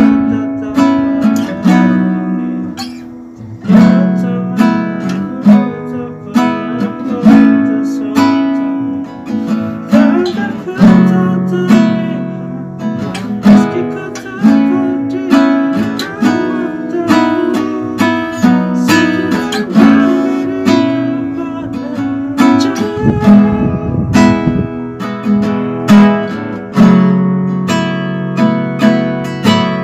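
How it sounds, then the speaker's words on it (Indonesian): Yamaha C315 classical guitar played solo, a steady run of plucked nylon-string notes and chords ringing out up close for the whole stretch, with no talking. "kurang lebih seperti itu suara yang dihasilkan dari gitar Yamaha"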